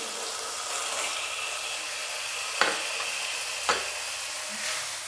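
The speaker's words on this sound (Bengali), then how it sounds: "সবগুলো উপকরণ 1 মিনিট কষিয়ে নেব" Eggs and spices for egg korma sauté in a pan with a continuous close sizzle, broken twice by brief sharp clinks of a spoon against the pan, and no talking.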